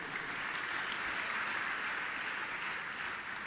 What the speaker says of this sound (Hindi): अपने लिए एक बार ताली तो बजा दो।